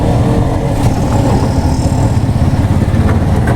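Car driving on a rough, potholed road between Ulhasnagar and Kon village, a loud steady engine drone and rumbling road noise from inside the vehicle, with faint rattles as it shakes.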